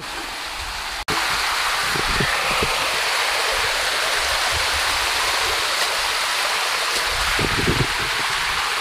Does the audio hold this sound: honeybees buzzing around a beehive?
no